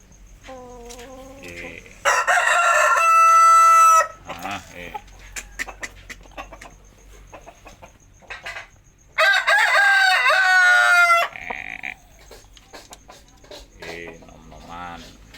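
Rooster crowing from inside its cage: two loud, long, close crows a few seconds apart, with softer clucks and scattered farmyard noises between, and no clear talk.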